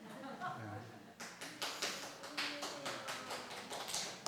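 A church congregation claps in a quick, irregular patter that grows after a quiet start, moderately distant and soft, with faint talk underneath.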